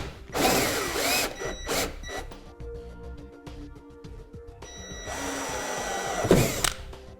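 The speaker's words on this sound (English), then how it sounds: "we're going to go ahead and use a hole saw to get access to our fastener" Hole saw cutting a roughly 1-inch hole through the sheet-metal body of a 2008 Infiniti G35, heard as two bursts of close, loud whining drill with a quieter gap between them.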